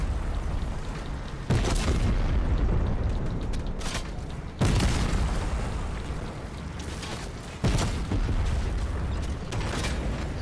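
Gunfire and explosions in the video game Fortnite: broadband bursts with sharp booming onsets at irregular intervals, loud and continuous, layered over rattling mechanical clatter with no voices.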